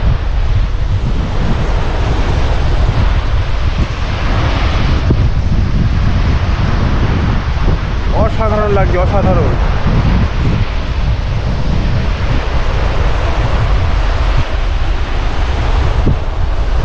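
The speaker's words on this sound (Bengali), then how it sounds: "শুধু হাওয়াটা দিচ্ছে দেখুন" Strong wind roars steadily across the microphone with surf washing in the background at the Mousuni island shore; a voice speaks briefly midway.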